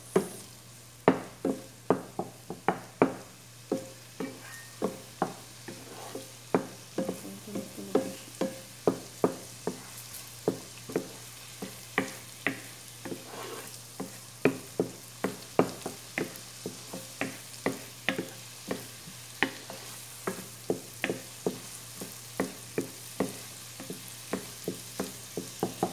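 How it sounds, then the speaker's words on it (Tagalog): Onions frying in a pan give a low continuous sizzle, punctuated by frequent sharp spatula taps and scrapes against the pan at a steady, uneven rhythm, close and moderately quiet. "Lutuin na natin ang sibuyas."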